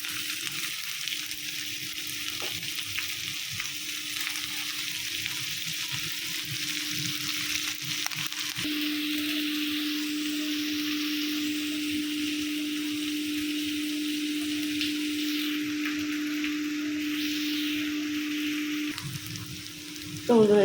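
Whole garlic cloves, some large ones split down the middle, fry with onion in a pan, giving a steady close sizzle that runs throughout under a faint constant hum, with no talking.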